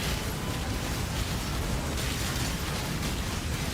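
A fireball explosion from the video game Path of Exile, a dense, sustained rumbling burst that stays loud and full for several seconds.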